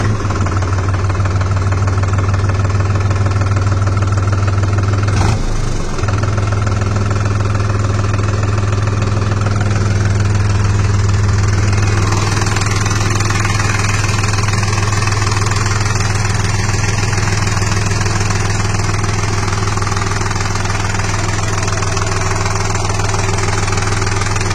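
A loud, steady New Holland 3600-2 Excel 50 HP tractor engine idles continuously with a deep, throbbing low rumble, close by and alone with no voices.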